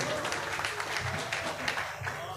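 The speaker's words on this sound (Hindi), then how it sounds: "ज़ोरदार तालियों के साथ उनका इस्तकबाल करें" Enthusiastic audience applause welcoming a visiting poet at a mushaira in a Nagpur celebration hall, a continuous wash of many hands clapping at an even level throughout.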